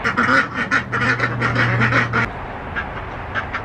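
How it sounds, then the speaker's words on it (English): Several ducks at a small homestead quack in quick repeated bursts, close and loud, a steady low hum running beneath the first half before the calls thin out. "The ducks have run away from me, so now I need to go find them."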